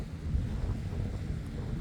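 Steady wind buffeting the microphone on a rocky stretch of Montauk beach near the harbor, a continuous low rumble with gusts swelling and easing, no voices.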